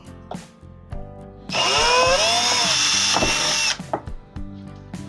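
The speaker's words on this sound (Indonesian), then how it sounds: "Ini pakai mata bor 4 mili dulu." An electric drill with a 4 mm bit spins up with a rising whine and bores steadily for about two seconds, then stops. Quieter knocks and handling sounds come before and after.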